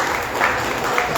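An audience at a daily yoga session in a memorial hall claps together, a dense, steady patter of many hands filling the room at close range, with a voice faintly beneath.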